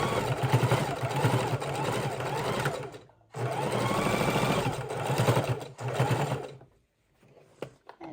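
A domestic sewing machine runs steadily while top-stitching around a fabric bowl, a close, even whirring hum in two long runs with a brief pause between them, then stopping near the end.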